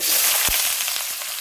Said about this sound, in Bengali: দিয়ে পেঁয়াজটা ভালো করে ভাজা ভাজা করে নেবো